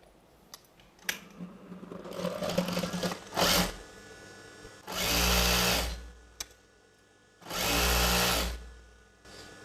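A tailoring sewing machine stitches a chudidar gathering pant, running in two sustained bursts of about a second and a half each, preceded by softer handling clatter and short clicks between runs.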